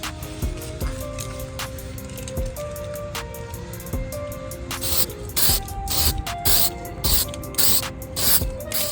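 An aerosol spray paint can coats the exhaust on a 2022 Honda Grom in a series of short, close hissing bursts with brief gaps between them, following a quieter stretch of clicks and handling noise.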